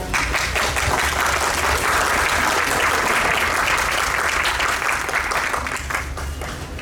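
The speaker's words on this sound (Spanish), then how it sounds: "damos la bienvenida a nuestros ponentes con un fuerte aplauso" Loud, sustained applause fills the hall as an audience at an international book fair welcomes the speakers, a thick continuous wash of many hands that eases slightly toward the end.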